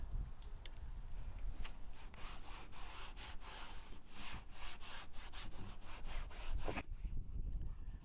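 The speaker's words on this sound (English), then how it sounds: "So as you can see, I'm just wiping it on. I'm not scrubbing it on, I'm just wiping it on." A cloth wipes trim restorer onto the black plastic trim of a caravan, making soft, repeated rubbing strokes at close range, steady and continuous before a brief quieter moment near the end.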